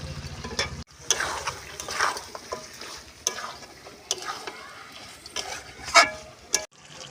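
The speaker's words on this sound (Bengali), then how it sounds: "এবার আমি ভেজে রাখা আলুগুলো চিকেন কষার মধ্যে দিয়ে দিলাম।" Fried potatoes go into spiced masala chicken in a pan and get stirred: close sizzling and frying with repeated scraping and clanking of a spatula at an uneven pace, some louder knocks near the end.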